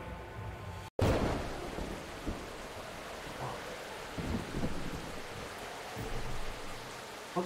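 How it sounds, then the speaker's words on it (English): A thunderstorm rages in the video game The Hex, with steady heavy rain hissing throughout and a sudden loud thunder crack rumbling out and away. "In a dark, forgotten corner of the video game universe, a storm is raging."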